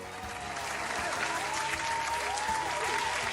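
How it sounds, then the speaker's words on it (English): Steady applause from a crowd fills the whole stretch, dense and even, with faint tonal game music threading through underneath. "I'm gonna give myself a round of applause"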